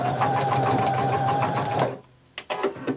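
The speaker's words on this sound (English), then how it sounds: "and we're going to sew that down." Sewing machine stitching ribbon onto elastic, a close, loud, fast mechanical whir for about two seconds, then stopping, followed by a few faint handling clicks and taps.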